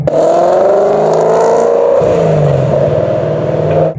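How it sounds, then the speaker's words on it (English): A Ford Mustang engine accelerates hard on an open road, a loud, sustained roar heard from inside the car that climbs in pitch and then drops briefly at a gear change. "now I can really floor it, right?"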